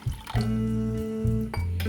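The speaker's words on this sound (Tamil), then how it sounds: "இது கூட இன்னும் கொஞ்சம் தண்ணியும் நான் வந்து சேர்த்துக்கிறேன்" Water being poured into a vessel of soaked kidney beans (rajma) in a home kitchen, a steady close gurgling fill with a rising hollow tone, broken by a couple of brief splashes and clinks.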